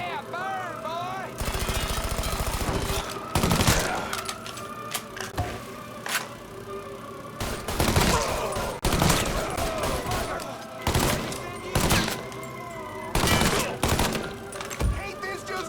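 Video game gunfire in Mafia 3 during a chaotic shootout, repeated loud bursts of automatic fire and single shots in irregular volleys, with a voice talking between and over the shots.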